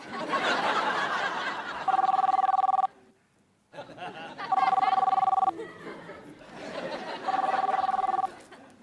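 A telephone rings at a hotel inquiry desk, three separate electronic ring bursts about a second long each, under and between lively chatter and laughter.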